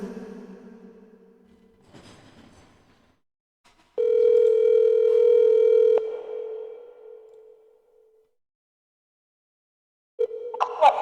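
A telephone call tone rings out loud and steady with bright harmonics for about two seconds, then fades, after shorter tonal bursts near the start and a fresh burst at the very end. No voices are heard.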